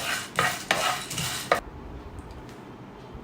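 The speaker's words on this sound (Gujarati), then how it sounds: "અને હવે મરીને પણ શેકી લઈશું પેન ગરમ જ છે" Black peppercorns dry roasting in a hot pan: a few close scraping stirs with bright rattling bursts over the first second and a half, then a quiet faint hiss with occasional small ticks.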